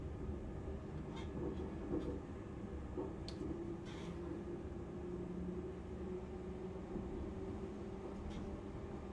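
Train pulling away from Colwyn Bay station, a steady low rumble and rolling noise holding evenly throughout with faint brief clicks, no voices.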